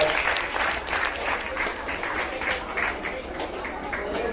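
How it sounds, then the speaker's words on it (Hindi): Steady applause from a crowd of students and teachers fills the room at a Teachers Day celebration in a coaching centre, sustained clapping throughout with some voices underneath. "एक बार जोरदार ताली बजाएं रोहित कुमार के लिए"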